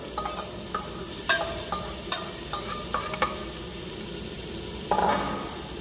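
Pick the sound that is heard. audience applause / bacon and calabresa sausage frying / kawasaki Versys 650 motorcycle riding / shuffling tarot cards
bacon and calabresa sausage frying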